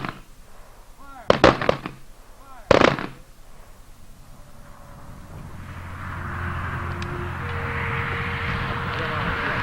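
Firing squad rifle volley salute at a VFW Veterans Day ceremony, two sharp loud volleys a second or so apart, followed by a rising outdoor rumble of traffic or aircraft.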